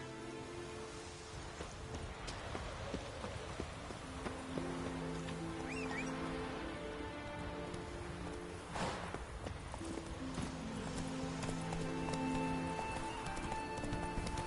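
Roach the horse in Witcher III walking with a steady clip-clop of hooves, moderately close over a continuous musical and ambient game backdrop.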